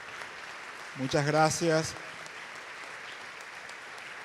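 A congress audience claps in a steady, moderate patter throughout, with a short spoken thank-you rising over it midway.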